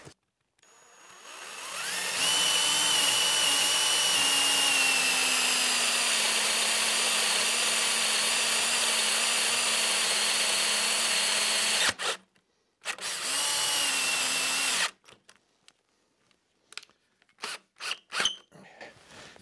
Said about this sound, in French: C'est bien ma mèche Forstner, ici, que j'ai mis sur une rallonge. Et donc je vais faire le perçage.